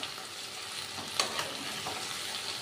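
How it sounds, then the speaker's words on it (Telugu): Okra (ladyfinger) pieces fry in a covered pan with a steady, soft sizzle throughout, broken by a couple of brief clinks or stirs near the middle. "ఇలా మూత పెట్టి 2 మినిట్స్ ఫ్రై చేయాలి"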